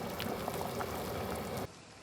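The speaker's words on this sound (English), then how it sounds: "All right, we are nice and boiling." A large pot of potatoes boils for a Thanksgiving meal, a steady bubbling and churning of water heard up close, then cutting off abruptly before a quieter moment.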